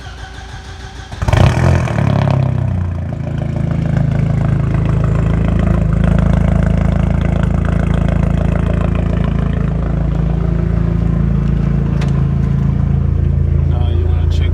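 An Audi A4 with a newly fitted Walbro 450 fuel pump cranks briefly and fires up, then settles into a loud, steady close-up idle that holds to the end.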